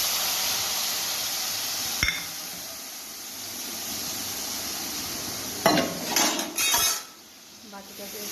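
A spoon works a paste of ground mustard, poppy seed and cumin in a pan after a nigella-seed tempering for a mustard pointed-gourd dish: a soft, steady hiss, one sharp clink, then a close burst of scraping and clattering against the pan.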